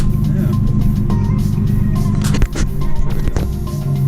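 A Nissan 370Z NISMO engine with a Tomei aftermarket exhaust rumbles steadily at close range while driving, with a deep exhaust note and a brief dip in the middle. A voice speaks faintly underneath.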